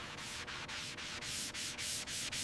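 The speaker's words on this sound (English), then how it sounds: "Final sand is about uniform scratches." A car body surface being sanded by hand before base coat: steady, close abrasive rasping strokes in even back-and-forth rhythm, each pass separated by brief gaps, no voices.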